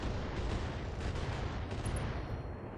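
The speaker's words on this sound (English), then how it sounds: "There goes the torso ammo explosion at that." A torso ammunition explosion in the BattleTech video game produces a loud, sustained, dense rumbling blast that fills the whole moment and fades only slightly at the end.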